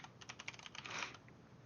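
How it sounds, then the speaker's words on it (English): Quick, light keystrokes on a computer keyboard come in a fast run of close clicks, faint overall, then taper off to quiet. "I'm just going to type it in"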